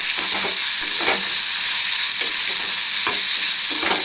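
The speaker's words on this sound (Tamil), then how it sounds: "இந்த ஆனியனை ஃப்ரை பண்ணி" Onion sizzles loudly in a pan with bitter gourd and chana dal, a continuous bright frying hiss with occasional stirring scrapes at intervals; no speech.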